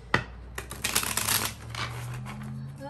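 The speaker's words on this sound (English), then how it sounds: "You're gonna also shuffle like this" Tarot cards being shuffled up close, a sharp snap followed by a dense burst of riffling flutter, then softer sliding shuffles trailing off.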